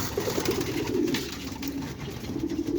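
Pigeons coo in repeated low, throaty phrases, with another soft rumbling coo later, over a faint background hum.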